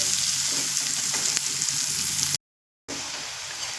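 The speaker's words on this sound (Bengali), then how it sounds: "পেঁয়াজ আমি একটু ভেজে নিয়েছি কিন্তু খুব কড়া করে কিন্তু ভাজিনি" Chopped onions fry in a pan with a loud, steady, close sizzle that runs on, stops briefly in a silent gap, then resumes at the same level.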